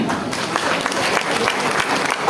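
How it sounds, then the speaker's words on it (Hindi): Crowd applause at a memorial gathering and community meet in Bhagalpur, steady and loud throughout the short stretch, a thick continuous patter of many hands clapping together. "जोरदार तालियां हो जाएं"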